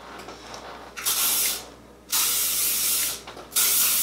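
Three bursts of hairspray hiss from an aerosol can, close and loud, the last two long and sustained with a short quiet gap between.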